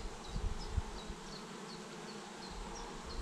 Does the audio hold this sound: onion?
no